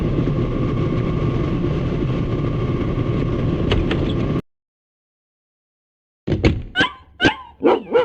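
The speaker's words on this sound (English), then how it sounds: "Is that's Shadow barking" Dog barking in the video game Dead to Rights: after steady game background noise and a pause, a sharp run of several loud, close barks in an uneven rhythm.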